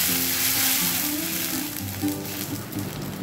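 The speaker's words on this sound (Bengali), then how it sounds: "এই তেলেতেই আমি দিয়ে দিচ্ছি জল।" Water goes into hot oil left from frying lentil dumplings, giving a loud, continuous hissing sizzle that eases off slightly toward the end, with no voices.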